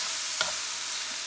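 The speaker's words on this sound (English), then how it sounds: "Ooh, I heard it sizzling." Steak sizzles in a hot pan, a steady, soft, broad hiss with one brief scrape or stir partway through. No one speaks.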